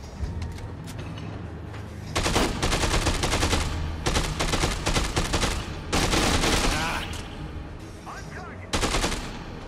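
Repeated bursts of video game gunfire from a gun in Dead Rising 2, loud and close, firing in several sustained volleys separated by short pauses, with a final short burst near the end.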